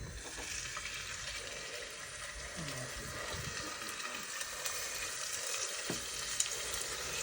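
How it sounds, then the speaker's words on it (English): Small bits of smoothhound shark fillet sizzle and crackle steadily in a pan of olive oil, a continuous close hiss with occasional pops and faint stirring. "I think I'm going to fry these little bits first"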